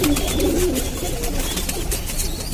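A prized pigeon kept in a Lucknow loft coos in low, throaty rolling calls close by, over steady loud background noise.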